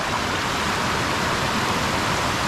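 A waterfall near Nakhon Si Thammarat roars as a loud, steady broadband rush of falling water, constant and close, with no voices over it.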